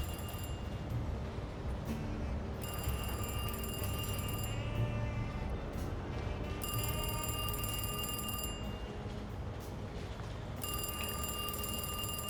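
A telephone rings in the horror video game Alone in the Dark, three bursts of bright electronic trilling separated by pauses over a low, steady ambient hum, moderately quiet.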